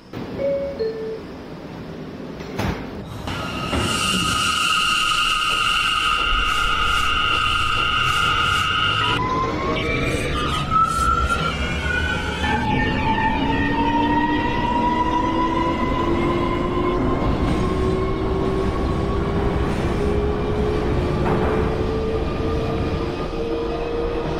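A Brooklyn-bound NYC subway A express train in the OpenBVE simulator runs loud and steady, with door chimes near the start, then motor whine rising in pitch as it accelerates, wheels and car rumble continuous throughout.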